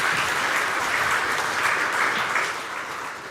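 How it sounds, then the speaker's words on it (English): Sustained audience applause at a book launch event on Black Sea security, a dense steady wash of many hands clapping that holds evenly and begins to fade near the end. "Applause for Yulia Sirko."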